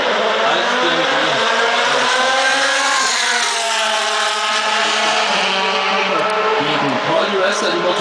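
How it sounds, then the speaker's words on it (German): DTM race car engines roar loudly at the start of a 2010 race at Oschersleben, a dense sustained howl of several engines rising in pitch as they accelerate, under continuous commentary. "Die Motoren heulen auf."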